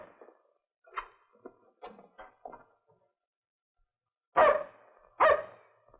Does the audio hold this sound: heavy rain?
no